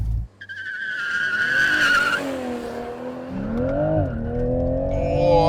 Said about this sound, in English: I'll be stalling the car up on the brake and then juggling the throttle to make sure I get the sweet spot between wheel spin and forward momentum